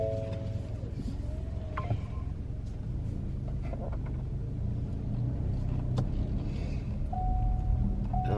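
A car drives slowly through a cemetery, heard from inside as a steady low engine and road rumble with a few brief chimes and clicks, no talking.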